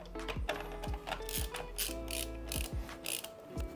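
A blue chassis fan is fitted into a fully 3D-printed computer case, giving a close series of sharp ratcheting clicks and scrapes in uneven bursts, with no voices.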